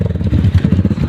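A motorcycle engine runs close by on a mountain trip, giving a short burst of steady, throbbing, pulsing rumble with no speech.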